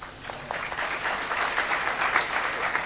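An audience at a church gathering breaks into steady applause, a dense rolling patter of many hands clapping at moderate volume that builds slightly and holds.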